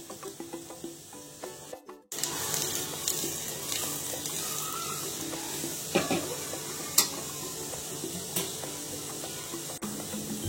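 Garlic sizzling in hot oil for a Maharashtrian dal tempering, a steady crackling fry that starts abruptly after a brief pause, with occasional clinks of a pot and a sharp pop near the end.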